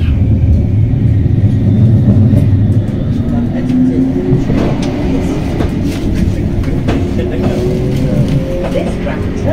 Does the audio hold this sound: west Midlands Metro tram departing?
yes